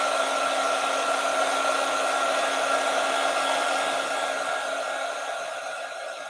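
Hair dryer blowing steadily on a drawing, a loud continuous whir with a stable pitch that eases slightly toward the end, heard alone.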